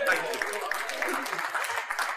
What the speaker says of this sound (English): Round of applause to the worm.